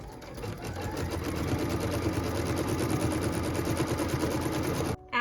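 A sewing machine runs steadily for about five seconds, stitching the tack-down line on a pieced quilt block, with a fast, even mechanical whir close by that stops abruptly near the end.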